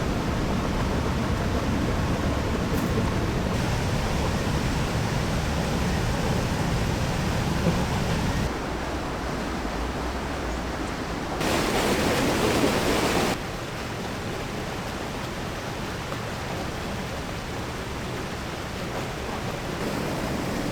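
A loud, steady rush of a waterfall roars continuously, a dense broadband wash with only slight shifts in intensity and no voices.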